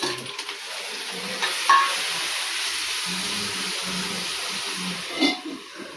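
Onions and tomatoes softening in a pan give a quiet, steady sizzle, with a few faint clinks and soft stirring sounds partway through.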